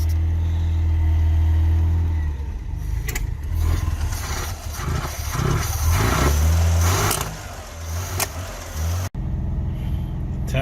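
An old barn-find BMW engine runs loud and close, a steady low rumble with uneven revving held on the throttle, then cuts off sharply near the end before a brief quieter rumble returns.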